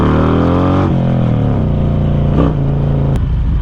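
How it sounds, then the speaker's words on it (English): A Harley-Davidson Road King motorcycle fitted with a Khrome Werks 2-in-1 exhaust runs loud and close, a deep steady engine rumble with slight shifts in pitch as the throttle changes. "The 2-in-1 exhaust from Khrome Werks, they sound totally different"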